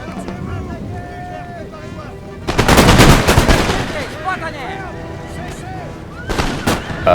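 Musket volleys and gunfire from a Napoleon: Total War battle, with a dense crackling burst of massed shots in the middle and a smaller volley near the end over a low ambient battlefield bed, while someone talks.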